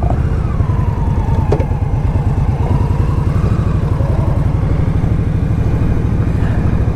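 2016 Indian Scout Sixty motorcycle being ridden, a continuous loud rumbling engine with a throbbing low pulse and some wind, no talk.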